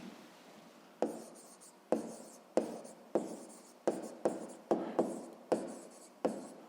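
A pen writes a sixth-grade math answer on paper in a run of about ten distinct scratchy strokes, each starting sharply and then fading. The strokes are close and come in an uneven rhythm, with no talk.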